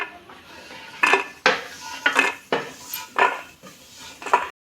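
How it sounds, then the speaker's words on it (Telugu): A metal spoon scoops ghee-fried cashews from a pan onto a plate in about six sharp, distinct clanks and scrapes spaced roughly half a second apart, close and clear, with no talking. "జీడిపప్పు వేగింది తీసేసుకుందాం ప్లేట్లోకి"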